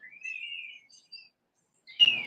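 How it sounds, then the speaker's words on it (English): Birds chirp outdoors in short, thin, high tweets, one drawn-out call followed by a brief pause and another sharp chirp, close and clear against near silence. "if y'all hear the birds attacking me, y'all know where I'm at"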